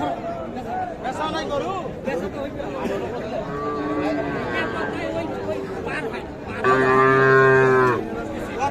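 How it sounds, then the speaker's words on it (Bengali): A Sahiwal heifer lowing at a crowded cattle market in Bangladesh, people chattering and bargaining nearby; a couple of softer moos rise under the talk, followed by one loud, drawn-out bellow close by. "শাহিওয়াল জাতের বকনা গরু।"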